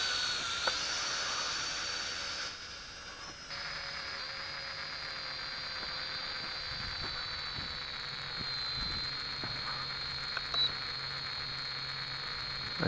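An F522 quadcopter drone flies with a steady, high-pitched whine from its spinning rotors that holds nearly constant, close and continuous throughout, with a few faint clicks.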